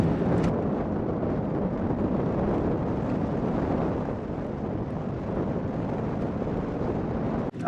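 Wind blowing across Moroccan desert sand dunes, a continuous low roaring rush buffeting the microphone, steady and loud throughout with no voices.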